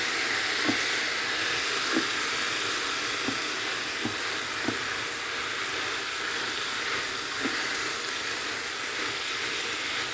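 Mixed vegetables steam and soften in a covered pan over low heat with no water added, giving a steady soft sizzle and hiss with faint occasional ticks and pops, close and continuous.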